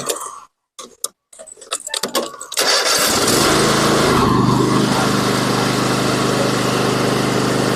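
A 2014 Cub Cadet XT1 Enduro 50-inch riding mower after a drive belt and pulley repair, its engine and spinning blades droning loud and steady after a few clanks and rattles at the start.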